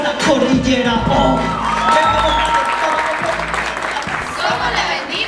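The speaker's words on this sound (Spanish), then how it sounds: "Fuerte el aplauso." A crowd gives loud, sustained applause with cheering and whoops from many people, steady for several seconds. Shouted voices and talk rise over the clapping.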